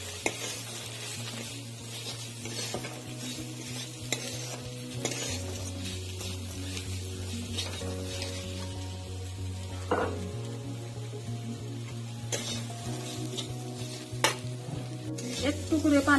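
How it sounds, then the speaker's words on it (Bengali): Peas and lentils being stir-fried in a pan, a continuous close sizzle broken by repeated utensil scrapes and clinks against the pan. "ডালটা মটরশুঁটিটা অল্প নেড়ে চেড়ে ভেজে নেই"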